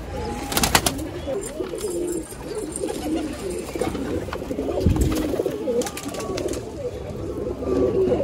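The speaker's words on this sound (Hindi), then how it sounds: "उड़ान वाला कबूतर है।" Pigeons coo steadily in low, throaty rolls against a busy outdoor background with rustling and a few sharp knocks, continuing throughout.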